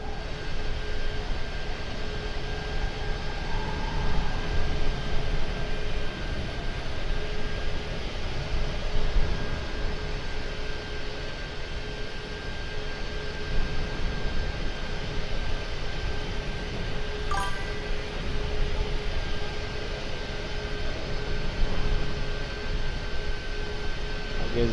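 A Delta airliner climbs in Microsoft Flight Simulator 2024, its jet engines making a steady, even roar that continues unbroken throughout.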